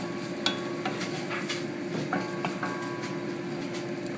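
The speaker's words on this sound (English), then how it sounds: "I'm just going to let that sit there and saute" Garlic sautéing in a pan for a Cuban-style paella: a steady close sizzle with a few light stirring clicks and taps throughout.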